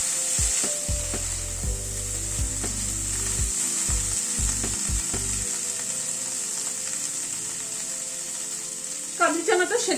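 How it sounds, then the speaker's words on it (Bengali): Boiled chickpeas sizzle in hot oil in a pan while being stirred, with a steady frying hiss, scraping and knocking of the spoon against the pan, and a brief clatter near the end. "কাবলি চানাটাকে দিয়ে একটু নাড়াচাড়া করে নিচ্ছি"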